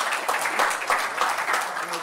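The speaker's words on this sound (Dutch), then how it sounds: "Dus als jullie dan even het applaus doen" Audience applause in a hall at the NLUUG 2021 conference, a broad crowd clapping steadily at close range for about two seconds with no voices over it.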